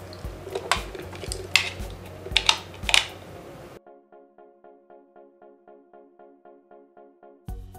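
Small plastic clicks and scrapes from a screwdriver opening a computer mouse casing, a handful of sharp close taps followed by a steady run of faint, regular ticking.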